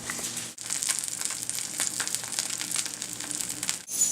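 Buttered bread sizzles steadily in a hot pan for a grilled cheese, a close, continuous crackle broken by a couple of brief dips.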